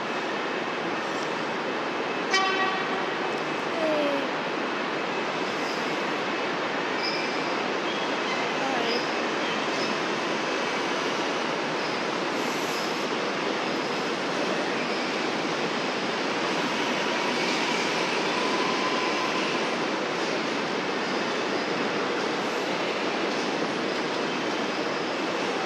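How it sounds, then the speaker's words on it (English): A Metro Melbourne train runs straight through platform 13 at Flinders Street station, a sustained broad rumble of wheels and carriages with faint clicks and a brief horn-like tone early on, steady throughout the passage. "have another train coming through platform 13 as Flinders Street service. It's going to go straight through because it has a green signal"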